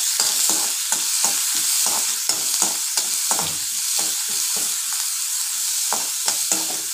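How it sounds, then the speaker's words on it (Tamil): Cumin, chana dal, sliced onion and curry leaves are sautéed in oil in a pan for a leftover-rice dish. Quick, evenly spaced scraping stirs, roughly two per second, ride over a constant loud sizzle close by, with no voices. "சீரகம், கடலைப்பருப்பு, வெங்காயம், கருவேப்பிலை போட்டு நல்லா வதக்கிட்டு"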